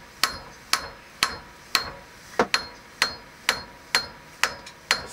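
Eleven sharp, evenly paced hammer blows ring out on a stuck wheel bearing in a 2WD 1999–2007 Silverado/Sierra, close and loud with brief decays between strikes and no talking.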